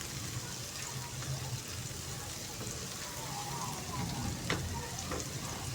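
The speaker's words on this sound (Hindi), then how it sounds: "देखिए हमारे मसाले जो है इनकी बुनाई हो रही है" Masala spices for egg bhurji sizzle steadily in a hot pan with tomato, giving a continuous crackling hiss with small pops throughout, fairly soft and with no voices.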